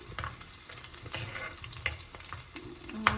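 Green chilies sauté in hot oil for a Kerala-style halwa fish curry, a soft continuous frying crackle with a few brief stirring clicks and scrapes, fairly quiet and close.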